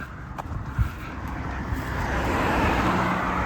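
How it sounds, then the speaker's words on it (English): A single car passes along a quiet country lane near villages at the edge of the Vale of Belvoir, a broad wash of engine and tyre noise swelling steadily from faint to fairly loud under light wind, with no talking. "that's the first car that's passed me since I started walking down here"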